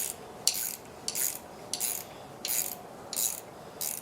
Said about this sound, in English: start using the ratcheting wrench